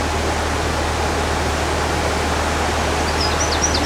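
Water rushing over the river weir at Saltford, a dense, constant roar heard close and loud with no break, plus faint bird chirps near the end.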